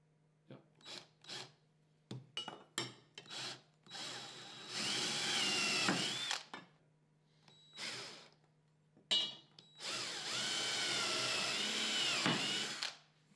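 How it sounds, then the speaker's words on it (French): A power drill pre-drills holes for mounting a shelf. It starts with several short bursts of whirring, then two longer runs as the bit bites in, with quiet pauses between. The sound is close and clear, with no talking. "Préforez vos trous, mais tenez compte de l'angle de votre tige."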